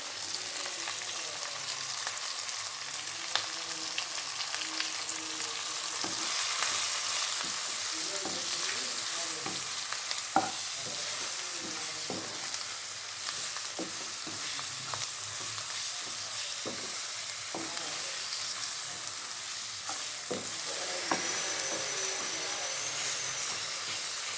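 Masala spices, salt, turmeric, chilli powder, coriander powder and ginger-garlic paste sizzle and fry in a pan for stuffed brinjal curry, with a steady close hiss and intermittent scraping stirs throughout, no talking.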